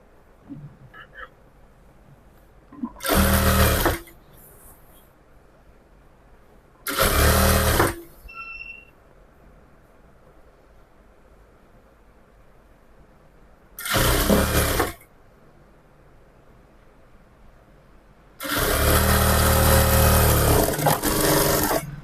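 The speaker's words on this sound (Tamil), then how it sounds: "அப்படியே ஒரு தையல் போட்டுக்கலாம்." Sewing machine stitching the folded hem of a pair of straight pants, running in four bursts: three short runs of about a second each, then a longer steady run near the end, close and clear between quiet pauses.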